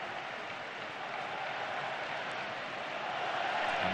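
Steady roar of a football stadium crowd at a UEFA Champions League qualifier between Villarreal and Everton, a dense, continuous wall of cheering that swells slightly toward the end, with no clear voices on top.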